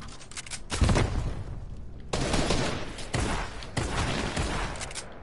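Gunfire from the Fortnite video game comes as several loud bursts of rapid shots with booming impacts, separated by short pauses. No one speaks.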